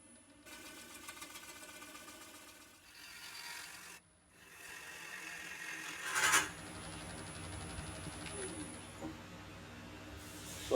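Woodturning tool scraping waste from the top of a large ash hollow form spinning on a lathe, a continuous raspy cutting drone that shifts in texture, with a louder gritty burst partway through.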